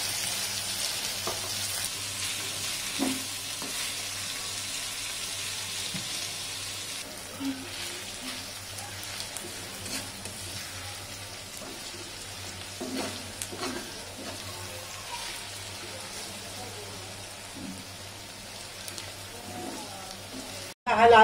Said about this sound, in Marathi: आता ह्याच्यामध्येच आपण कांदा टाकून शिजवूया